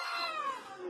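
A house cat wearing a football jersey lets out a single drawn-out, wavering meow-yowl lasting under a second, loud and close, during a Colombia–England match goal.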